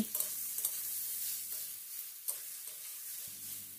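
Chopped beetroot and carrot stirred in a wok for vegetable chop filling, soft sizzling broken by several scraping spatula strokes and taps against the metal.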